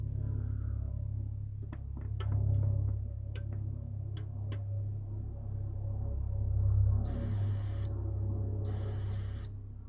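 A garage door controller gives two long, steady electronic beeps, separated by a short gap, over a low hum and faint ticking.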